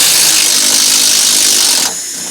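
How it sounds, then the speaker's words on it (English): A power tool loosens the 17mm bottom strut bolt on a Nissan Sentra's rear suspension, giving a loud, steady, close-up whir for nearly two seconds before it suddenly drops to a quieter hiss. "And now we're gonna remove the bottom bolt,"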